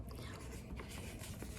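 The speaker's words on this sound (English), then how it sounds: "take maybe the edge of your scissors, protect your table, edge of your scissors" A scissors edge is drawn firmly along a fold in cardstock on a protected tabletop, giving a brief, soft, dry scraping rasp heard up close and faint.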